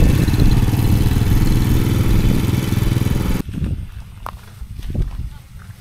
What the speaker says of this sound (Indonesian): jadi dipompa ke sawah-sawah pakai mesin ini